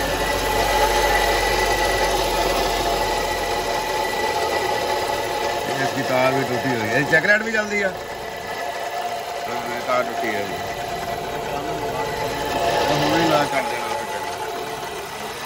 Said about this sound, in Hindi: तो वाटर पंप जो है ना वो उसकी आवाज है